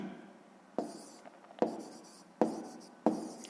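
A pen writes out a math solution by hand on paper, making close, scratchy strokes. Four distinct accented starts fall about a second apart over a quiet background, with no voices.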